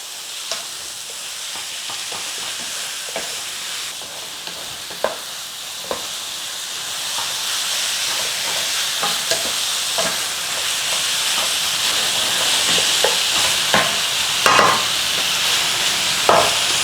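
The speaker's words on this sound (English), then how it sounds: "Start to cook down this lamb a little bit." Lamb pieces sizzle in a biryani pot, a steady bright hiss of frying rising slightly over time, with scattered soft clicks and scrapes from stirring, close up and without talk.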